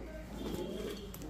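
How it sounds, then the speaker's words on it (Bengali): A female racer dopas pigeon gives a low, soft coo over a dense background hum, brief and fairly faint with no clear speech. "এটা ভাই রেসার দোপাস মাদি কবুতর, রেসার দোবাস একটা মাদি কবুতর"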